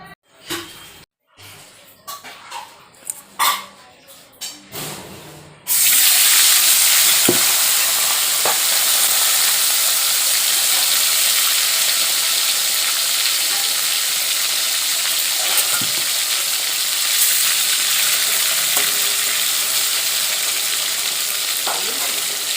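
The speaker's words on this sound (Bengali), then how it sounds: "এদিকে কড়াইয়ে তেল দিয়ে দিয়েছি মাছগুলো ভেজে নেবো" Small rithe fish, rubbed with salt and turmeric, go into hot oil in a wok and erupt into a loud, steady hiss of frying that continues without a break, after a few scattered clatters and handling sounds.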